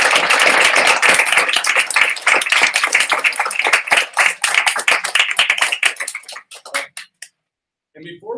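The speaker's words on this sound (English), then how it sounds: "Let's have a round of applause." Graduation crowd gives a loud, dense round of applause that breaks into scattered separate claps before fading to silence, followed by a brief voice.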